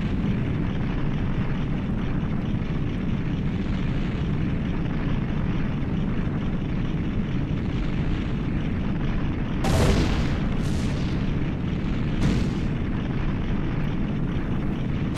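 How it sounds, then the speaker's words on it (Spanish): A castle collapses amid explosions at the end of Zelda: Ocarina of Time, a steady heavy rumble broken by a few sharp booming blasts near the end, loud and with no talking. "miren cómo explota todo aquí!"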